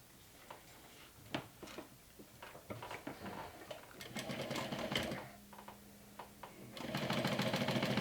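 A sewing machine stitches down a folded webbing strap hem on a mini backpack, running in short bursts with ticking pauses and then a longer steady whir, close and clear.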